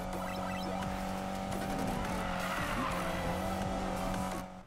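A car drifts in Need for Speed Payback with a sustained tire squeal and skidding over a steady engine drone, continuous and fairly loud, then cuts off at the end.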